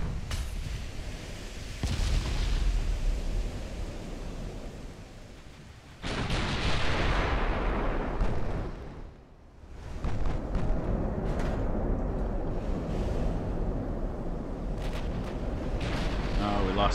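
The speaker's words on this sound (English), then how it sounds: "And why are we firing? Those are probably the secondaries." Warship secondary guns firing in the naval battle game Ultimate Admiral: Dreadnoughts: loud booming salvos, one every few seconds, each followed by a long rumbling roar that fades before the next blast.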